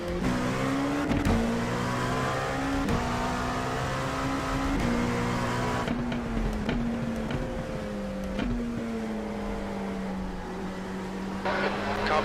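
Race car running a 24 Hour Daytona mock session, its engine droning loud and steady throughout with shifting revs as it passes, one continuous close engine note with brief gear-change dips.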